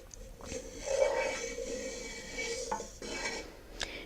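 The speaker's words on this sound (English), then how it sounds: "Now I'm dumping in the shrimp and the garlic, which are all on that cutting board." Shrimp and garlic tipped off a cutting board into a pot of water brought to a boil while cooking Thai shrimp, giving a soft scraping, clattering tumble with light metallic knocks, close and quiet, no talking.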